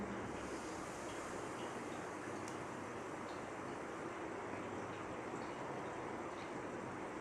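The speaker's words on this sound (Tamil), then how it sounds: "குழம்பு நல்லா கொதிக்குது." Chicken kuzhambu with pepper simmering at a vigorous boil in a pot, giving a steady, dense hiss and bubbling rush that holds even throughout without pauses or voices.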